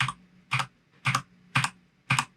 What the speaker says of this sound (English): I'm just typing U to undo all the changes.